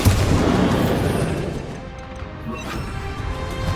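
Bombarda blast spell exploding in Hogwarts Legacy, heard as a loud, dense crashing boom that rumbles on for several seconds with smaller debris-like crackles through it.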